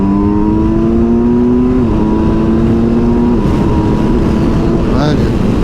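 A Kawasaki Versys 1000 motorcycle accelerates hard with rising engine pitch through gear changes, heard on board against heavy wind roar, loud and continuous.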